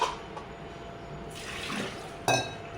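Water splashes and trickles into a pressure cooker in a home kitchen, where masoor dal amti has just been made, with a brief pour, a pause, then a sharper splash and a clink of metal near the end.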